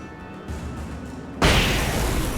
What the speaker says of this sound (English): I threw a flash grenade